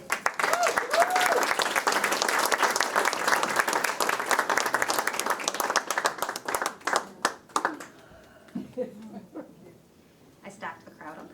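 An audience at a live storytelling presentation bursts into loud, dense applause that lasts several seconds, then thins into scattered claps and fades before the presenter starts to speak.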